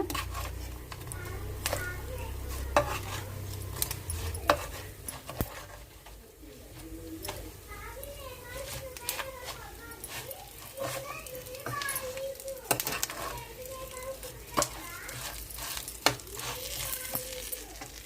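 Fish roe fries in a pan with a soft crackling sizzle and occasional sharp scrapes and clacks as it is turned, under someone talking, with pigeons cooing faintly in the background.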